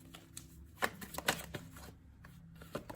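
Tarot cards are shuffled and drawn by hand at close range, a quick riffling flutter with several crisp slaps and flicks as a card is pulled, alone without speech.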